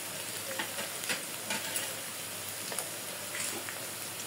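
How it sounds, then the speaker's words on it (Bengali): Sliced onion with garam masala frying lightly in a pan for a chicken curry. It gives a steady close crackling sizzle with small clicks of stirring and no talk. "একটু ভাজি করে নেব হালকা পেঁয়াজটা।"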